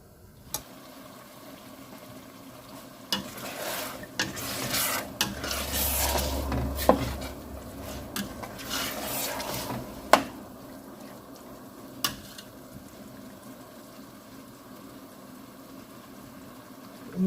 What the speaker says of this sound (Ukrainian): Цибульку просмажуємо до тих пір, поки вона стане така трішечки прозора